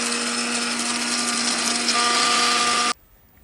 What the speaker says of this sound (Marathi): मिक्सरमध्ये बिर्याणी मसाला व लाल बेडगी मिरच्या